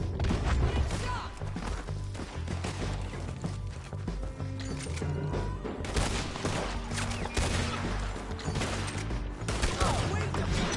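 Gunfire in the video game Red Dead Redemption 2, a sustained firefight of loud repeated shots and impacts layered over music and game noise, with occasional shouted talk.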